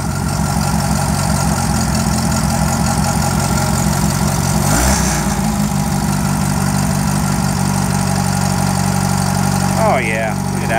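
The engine of a 1974 Satoh Elk tractor chugs and rumbles close by, settling into a steady, loud idle, while a person speaks briefly near the end.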